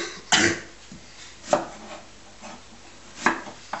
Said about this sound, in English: That's how you dice garlic